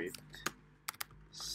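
Quiet keystrokes on a computer keyboard as an npm install bcrypt command goes into a terminal: scattered single taps, then a brief flurry of keys, close and soft with no talk.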